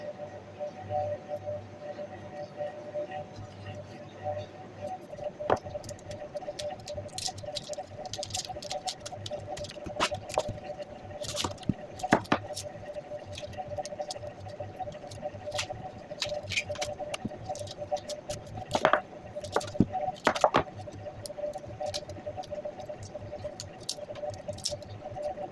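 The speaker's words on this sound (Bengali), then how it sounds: "প্রথমে আমি পেঁয়াজ কেটে নেবো 3টা।" A knife works through three onions on a board, producing scattered soft taps and a few sharper chops at irregular intervals over a faint steady hum, quiet and close, with no one speaking.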